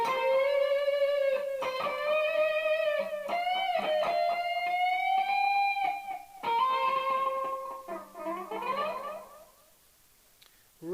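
Electric guitar line from a song, a sustained melodic phrase with slides up and back down, bends and distorted tone, played alone and fairly loud before fading near the end.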